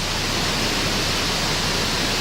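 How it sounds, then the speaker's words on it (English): Salmon Creek in Juneau, Alaska rushes past in a loud, steady broadband wash of flowing water, continuous and close with no voices over it. "Here we are at the creek, Salmon Creek, in Juneau, Alaska"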